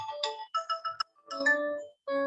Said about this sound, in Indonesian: Sebentar, ada telepon di sini.